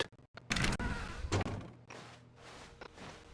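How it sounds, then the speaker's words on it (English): A door in The Stanley Parable, a few heavy thunks and knocks with a solid, slamming quality, fairly close, spaced unevenly across a few seconds with no talk. "When Stanley came to a set of 2 open doors, he entered the door on his left."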